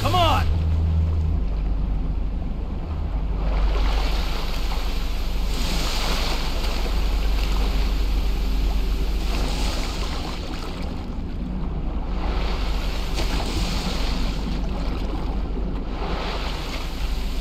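A boat speeds over rushing river water toward the rapids in the Grand Theft Auto V video game, a steady, loud wash of churning water and wind with a low engine rumble underneath, unbroken for the whole stretch.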